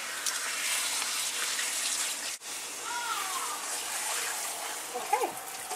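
Water splashes and pours steadily while shampoo is rinsed out of hair, a close, continuous tap-like gush with a brief break midway and small splatters near the end.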